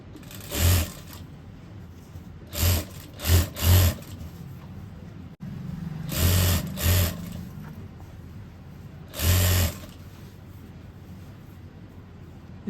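A sewing machine stitches along the edge of a pant in short bursts, several quick runs of whirring separated by pauses, close and clear.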